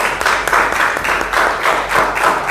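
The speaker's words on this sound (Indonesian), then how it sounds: "Tepuk tangan dong untuk Livia dan Farah." Students clapping in a classroom after a group presentation, a rhythmic group clap in steady pulses, fairly loud and close, with no talking over it.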